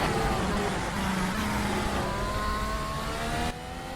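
Formula 1 car engine wailing at full throttle in a racing video game on the Japan circuit, a loud high-pitched whine with rising pitch sweeps, continuous and close, easing slightly at the end.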